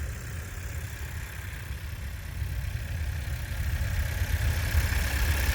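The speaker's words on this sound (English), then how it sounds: "the engine runs pretty good" A 2025 Volkswagen Jetta SE engine idles in a steady, low rumble with a faint hiss above it, holding an even level that swells slightly toward the end, with no talking.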